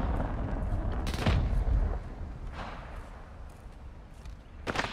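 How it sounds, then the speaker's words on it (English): Gunfire in Call of Duty Warzone 2.0 arrives as several sharp, booming shots spaced irregularly over a low rumble, loud and close, with a final burst at the end. "Taking effective fire! Where the fuck are they shooting me from?"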